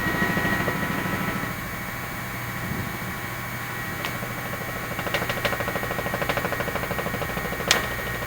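A steady, droning news helicopter rotor hum fills the background, in flight, with a few faint clicks and taps breaking through near the mic.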